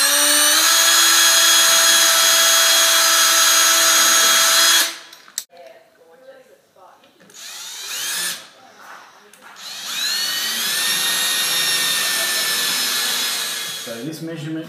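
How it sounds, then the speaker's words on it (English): Power drill driving screws while hanging a door: a loud steady whine for about five seconds, then short bursts and pauses before a second sustained high-pitched run. "We'll pre-drill the screws and screw the door into place"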